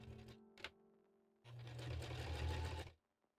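A sewing machine stitching a backstitch on a cosplay costume, a brief low hum, then a steady close run of rapid mechanical whirring for about a second and a half before stopping abruptly.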